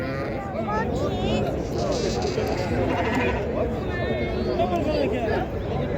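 Sheep and lambs bleat repeatedly at a busy livestock market, overlapping calls from several animals close by under a steady crowd murmur and people talking.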